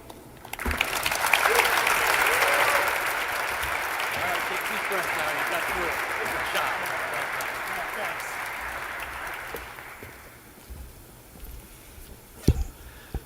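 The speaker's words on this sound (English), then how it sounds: "The boys want to give him another round of applause." A hall-of-fame crowd at a University at Buffalo athletics induction claps warmly for several seconds before the applause tapers off, with a voice speaking over it.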